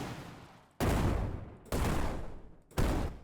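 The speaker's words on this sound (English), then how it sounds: "If I want to look for an explosion sound, I might search for the word explosion" Three explosion sound effects from an editing software library, each a sudden loud booming blast with a rumbling decay, fired off one after another less than a second apart.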